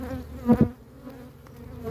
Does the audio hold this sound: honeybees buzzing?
yes